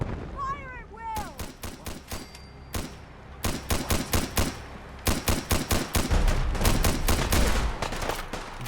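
Rapid volleys of gunfire ring out during a foggy dockside defence battle in Fallout 4: Far Harbor on PC, bursts of loud close shots in quick clusters with short pauses, plus a few shouted voices early on.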